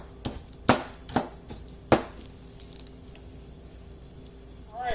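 A knife chops down on a cutting board while mincing food for country-style pinto beans: about five sharp, close knocks in an uneven rhythm, then a quiet pause.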